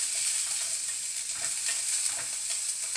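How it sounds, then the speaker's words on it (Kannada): Sliced onion and capsicum fry in a pan over low heat, giving a steady, soft sizzle with faint crackles throughout and no speech. "ಒಂದು ಸ್ವಲ್ಪ ಸ್ಲಿಮ್ಮು ಉರಿನಲ್ಲೇ ಇದನ್ನು ಫ್ರೈ ಮಾಡ್ಕೊಳ್ಳಿ."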